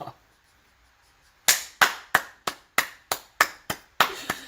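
One person clapping hands about ten times in a quick, slightly uneven rhythm, sharp and close, after a near-silent start.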